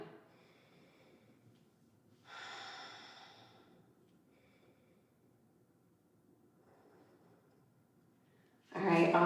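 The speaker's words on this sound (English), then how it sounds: "Let's take a couple of deep breaths here," Deep breathing during a yoga sun salutation session: a quiet room with a long, soft breath partway through and a stronger, louder exhale right at the end.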